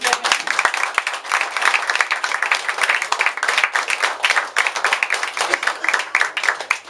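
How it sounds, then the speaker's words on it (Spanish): A church congregation breaks into applause after a prayer, a dense, steady patter of many hands clapping together throughout, fairly close and even in level. "Denle un aplauso."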